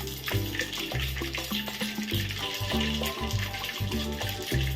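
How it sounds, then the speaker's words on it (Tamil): Mustard seeds are dropped into hot oil while making dried-fish thokku: a dense, steady sizzle and crackle of frying with scattered small pops, close and continuous throughout. "எண்ணெய் வந்து நல்லா காஞ்சிச்சு. நம்ம ஒரு புடி போல் நம்ம கடுகு சேர்த்துடலாம்."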